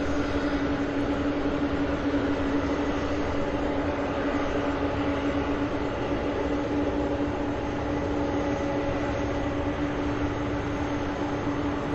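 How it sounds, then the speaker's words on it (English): UPS MD-11 jet engines at an airport, a constant loud roar that holds steady throughout with no breaks or voices. "UPS flight 1070, a 30-year-old MD-11."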